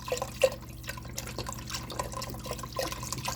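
Creamy chicken soup liquid is poured into a pot, making a soft, steady trickle with scattered drips and small splashes over a low background hum.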